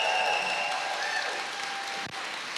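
Crowd applause and cheering at an awards-style event, a dense steady wash of clapping that holds for a couple of seconds and stays fairly even throughout.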